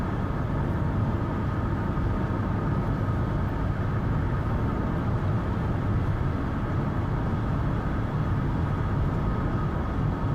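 A long freight train of mostly shipping containers rumbles steadily past near Bethlehem, Mississippi, a continuous low roar of rolling wagons with no let-up and no talking.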